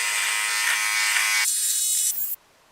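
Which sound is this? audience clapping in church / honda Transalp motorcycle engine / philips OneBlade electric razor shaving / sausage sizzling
philips OneBlade electric razor shaving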